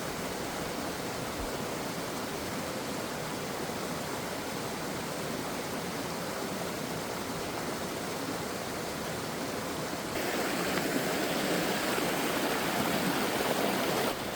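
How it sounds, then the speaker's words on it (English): Rushing river water at a hiking trail crossing in the White Mountains, New Hampshire, a loud, continuous close-up roar that grows slightly brighter near the end. "You did have to step over some rushing water"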